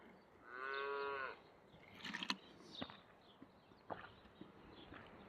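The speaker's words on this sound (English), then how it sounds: "I hear a cow" A cow on a farm nearby gives one long, drawn-out moo at moderate distance, followed by scattered soft knocks and rustles.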